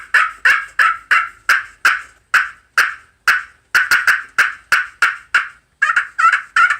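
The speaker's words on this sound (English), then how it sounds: "A glass over slate call" A rapid, steady run of raspy turkey yelps from a glass-over-slate friction call, loud and clear, with a brief pause before a final few quicker notes.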